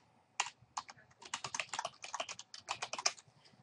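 Quick, quiet keystrokes on a computer keyboard while a password is entered into Outlook 2010 on Windows 7, a close, irregular burst of clicky taps with no talking.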